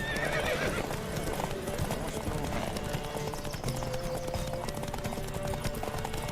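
Rapid rhythmic hoofbeats of a galloping horse in The Witcher 3: Wild Hunt during a race pound steadily over a busy game soundscape, with a brief whinny and a voice murmuring faintly beneath.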